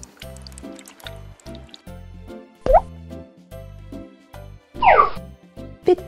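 A milkshake is poured from a toy blender as part of a play scene, giving a few wet plops and squishy drips spaced apart among soft tinkling and background music.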